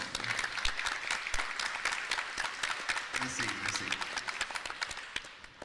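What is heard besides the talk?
audience applause for an illustrator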